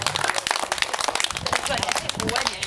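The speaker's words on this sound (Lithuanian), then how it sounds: "Ir aplodismentai, plojimai ir gražiausias gėlės." Audience applause at a 2014 festive event in Joniškė: dense, continuous clapping from a crowd, with voices mixed into it.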